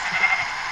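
A single short, nasal sheep bleat from the video game Minecraft, close and clear with nothing else around it.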